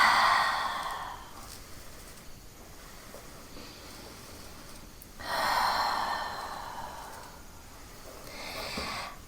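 Slow deep belly breaths during an ab workout, resting in child's pose: two long, audible inhale-exhale cycles, fairly quiet and close, with no talking over them.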